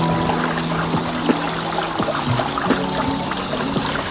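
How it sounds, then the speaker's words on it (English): Water pours steadily from a main reservoir into a tank to top up its level, a continuous close splashing trickle with small irregular plops throughout. "I'm using the main water reservoir to get the water level right back up to the top."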